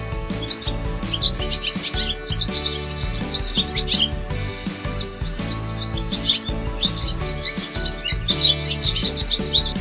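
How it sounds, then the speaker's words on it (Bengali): Bird calls in a tree, meant as a dove, sound as bright repeated chirps and tweets throughout, set over a steady backing of music in a children's Bangla alphabet rhyme. "ঘুঘু পাখি ডাকছে গাছে।"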